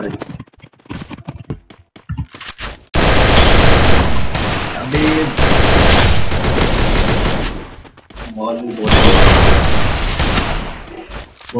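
Dense gunfire from the Garena Free Fire video game rattles in long loud bursts, with sustained automatic fire and booms. Excited players talk over the shooting throughout.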